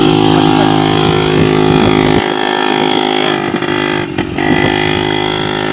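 A motor vehicle engine runs loud and close with a steady droning hum on a trip out to hunt button mussels in the Bay of Bengal, with a brief dip and a few knocks midway.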